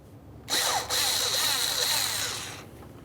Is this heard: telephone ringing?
no